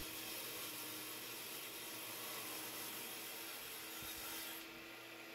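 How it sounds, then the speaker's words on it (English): A table saw makes several light passes through wood stock for a mitered keepsake box, a soft, steady whir of blade against wood held at a constant level throughout. "I raised the blade a bit and made several passes, taking a light cut each time."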